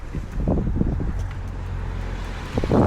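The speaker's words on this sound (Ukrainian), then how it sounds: "Будь обережний, вітер дуже сильний, зважайте на це." Strong wind buffets the microphone in a steady low roar with gusty rumbling throughout.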